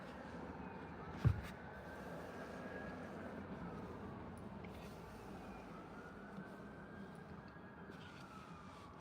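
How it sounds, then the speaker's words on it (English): Faint distant ambulance sirens wail in a slow rising and falling sweep over a quiet outdoor background at a sunset spot on Cape Breton, Nova Scotia, with one sharp close knock near the start. "Sirens, I hear sirens."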